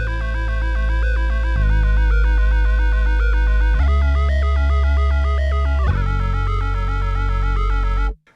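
Bass guitar run through a C4 synth pedal, producing a loud, dense, throbbing synthesized tone with rapidly stepping, sequenced pitch patterns that shift in sections and stop abruptly at the end, with no talking.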